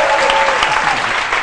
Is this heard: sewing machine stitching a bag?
no